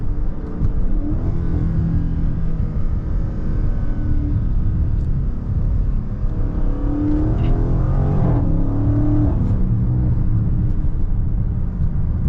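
A Dodge Charger Scat Pack Widebody accelerates hard, its engine giving a loud, deep rumbling roar that climbs in pitch through the gears, heard close from inside the car.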